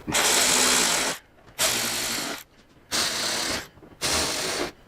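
Ratchet tightening screws on a Harley Road Glide headlight fairing, four loud buzzing clicking runs of about a second each with short quiet gaps between them, close up.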